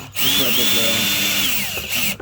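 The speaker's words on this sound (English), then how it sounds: "Just drill right through both" A power drill whines steadily for about two seconds, close and loud, as it bores through metal while light bars are fitted to a Ford F250 truck.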